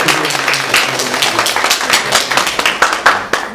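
A church congregation claps during a Sunday worship service, a dense run of many hands sounding steadily across the whole stretch with a few sharper accents, with no talk over it.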